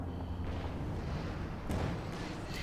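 Artillery and gunfire rumble in a Company of Heroes 2 battle, a continuous dense roar of distant booms with a sharper blast near the middle, loud and without talk.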